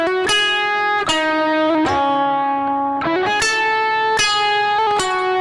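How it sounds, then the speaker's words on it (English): Clean electric guitar played with only reverb on, no delay, in an ambient worship style: a slow sequence of ringing chords and sustained notes, each strike blooming and lingering into a wash of reverb, loud and up close. "if I take away my delay and I just leave on reverb"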